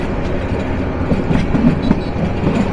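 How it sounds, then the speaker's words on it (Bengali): The Kishoreganj Express intercity train runs into Methikanda station with a steady, loud rumble of rolling wagons and faint rhythmic clickety-clack from the wheels, heard close from on board, with no talk. "আন্তনগর কিশোরগঞ্জ এক্সপ্রেস প্রবেশ করতে চলেছে যাত্রা বিরতির তৃতীয় স্টেশন মেথিকান্দায়"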